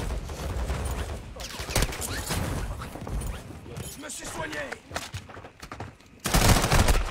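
Dense video-game gunfire crackles in bursts and rapid volleys throughout, mixed with game effects, while a player talks over the action.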